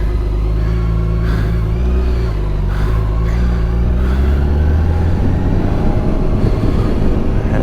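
2019 BMW K1600B bagger motorcycle cruising on the highway near Raleigh, North Carolina, a loud continuous engine drone with heavy wind rumble and a slight rise in pitch as it pulls along.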